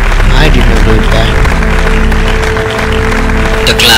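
An audience claps steadily in a dense, continuous wash of applause, loud and close, with voices mixed in underneath.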